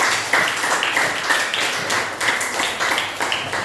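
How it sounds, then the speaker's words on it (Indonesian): Classroom applause from a group of students, steady dense clapping that carries on through the whole stretch with no one talking over it. "Sekali lagi mari kita berikan aplaus yang paling baik"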